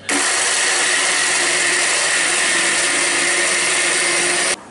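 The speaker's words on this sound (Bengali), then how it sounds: "পেঁয়াজ আদা রসুন মিক্সচারে পেস্ট করছি।" An electric kitchen mixer grinds onion, ginger and garlic into a paste, running as a steady, loud whine that continues unbroken for several seconds and then cuts off abruptly.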